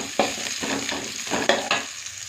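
Pepper, coriander and curry leaves sizzle in hot oil in a pan, with repeated stirring scrapes of a utensil over a steady frying hiss, close and alone.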